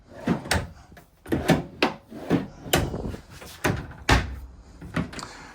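Bathroom drawers in a 2026 Cougar 316RLS travel trailer slide open and shut repeatedly, a run of close, hollow wooden thumps and knocks in quick succession, with no talking.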